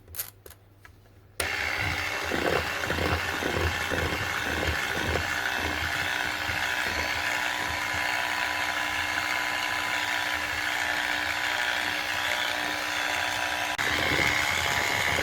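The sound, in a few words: mixing flour into cookie dough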